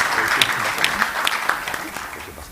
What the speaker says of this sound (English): Let's clap for her, please.